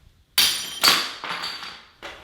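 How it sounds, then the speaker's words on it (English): A thrown wrench crashes into a standing domino structure, setting off a burst of clattering plastic tiles in a few quick cascading waves, close and crisp, ending with one last clack. "on my first attempt of like throwing the wrench"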